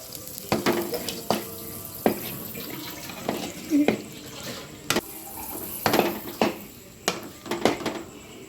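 Water splashes into a hot, sizzling pan, with scattered clicks and scrapes of a utensil stirring throughout.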